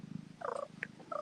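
A cat purring close up, a low soft rumble running throughout, broken by a few brief higher chirps and squeaks.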